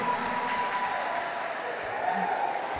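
A school audience applauding a correct answer at a quiz competition quarter-final, steady moderate clapping from a crowd that carries on evenly, heard from a little distance with some murmur underneath.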